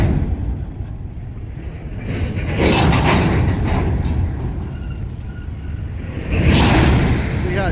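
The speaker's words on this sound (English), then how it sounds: "That's another train coming because he's further away." A passing train rumbles by in the open, its broad roar swelling twice amid heavy wind buffeting on the microphone, fairly loud and near.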